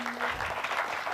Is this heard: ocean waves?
no